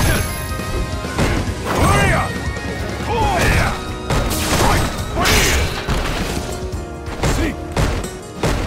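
Ryu's Hadouken fireball from Street Fighter V, in a fight against Seth, lands among a rapid run of sharp crashes, whooshes and thuds, with a character voice shouting over the loud game effects.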